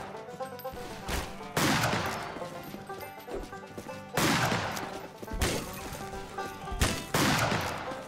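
Gunfire from the Western shooter Fistful of Frags cracks out in several loud, sharp bursts at irregular intervals, each shot ringing briefly over a game soundtrack.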